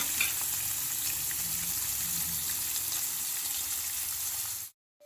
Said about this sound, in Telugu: అలా వేసుకుంటేనే ఆ పప్పు ఇవన్నీ వేగుతాయి అన్నమాట